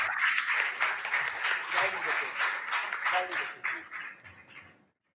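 Audience at a school quiz competition clapping for the contestants, a scattered, fairly loud burst of claps and cheers that tapers and stops abruptly near the end, with voices mixed in.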